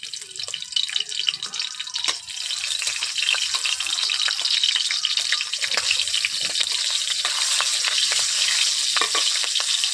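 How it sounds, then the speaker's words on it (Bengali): Green chillies fry in hot oil in a wok with a loud, continuous hissing sizzle that holds steady throughout, broken by occasional spatters and light stirring clatter. "কড়াইতে আমি তেল দিয়ে দিচ্ছি প্রথমে, এরপর দিয়ে দিচ্ছি কাঁচা লঙ্কা"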